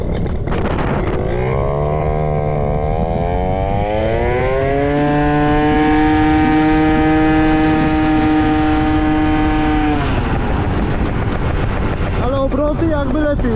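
A modified Italjet Dragster 180 scooter accelerates hard, its engine note climbing steeply in pitch, holding high revs, then dropping off, with loud wind buffeting the microphone throughout.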